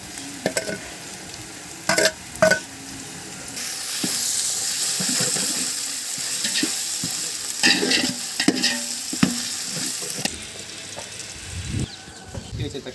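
Onions fry with ginger garlic paste in a pan, a loud crackling sizzle broken by repeated sharp spatula scrapes and knocks against the metal, with a brief pause near the end.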